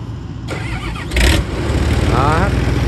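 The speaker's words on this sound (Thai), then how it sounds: "เสียงรถสตาร์ทครั้งที่2" A vehicle engine cranks and catches, then settles into a steady idle, with a brief voice and background noise.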